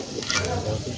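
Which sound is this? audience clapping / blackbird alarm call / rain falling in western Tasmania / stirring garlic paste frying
stirring garlic paste frying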